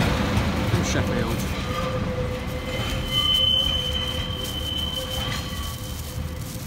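A train pulls into Lincoln station past the High Street level crossing in snow. Its rumble is steady and moderate, with faint squealing tones from the wheels or brakes, and a person talks over it.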